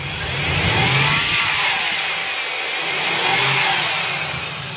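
A vehicle engine running with its clutch fan removed: a steady, loud mechanical drone with a broad hiss, swelling slightly twice as if lightly revved, heard alone with no voices.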